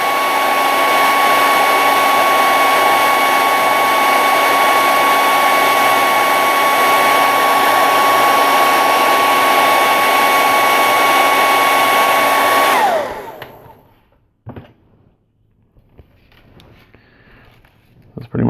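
A hair dryer blows loudly and steadily with a whining tone while heating shrink tubing during soldering on a scale model bust kit, then switches off and winds down, leaving faint handling sounds.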